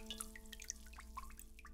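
Water drips from a pierced pipe in the game Homesick, sounding as a handful of small, irregular plinks over a low steady hum, quiet and fairly close, no talking.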